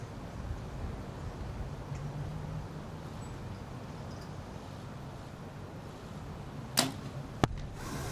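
An archery arrow shot during a women's compound match at the Berlin Archery World Cup, heard as a sharp release and a second crisp impact near the end, over steady wind and outdoor crowd ambience.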